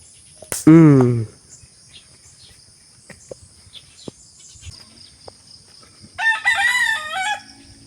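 A rooster crows loudly nearby among farm chickens, then a second crow follows after a quiet stretch, with insects chirping faintly throughout.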